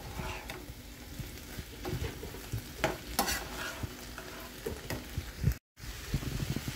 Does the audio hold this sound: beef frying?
yes